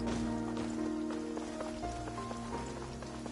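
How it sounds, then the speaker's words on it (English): Steady downpour of rain in Genshin Impact, a continuous dense patter of drops on surfaces with faint game music tones running beneath, no talking. "I love the rain."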